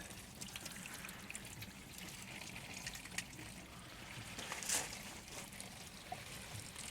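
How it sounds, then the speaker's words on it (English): Water poured over the windscreen and scuttle of a Fiat Ducato Burstner Brevio motorhome, trickling and splashing steadily onto the engine bay below, with a faint hiss and a brief louder splash midway. "Show the amount of water being poured again."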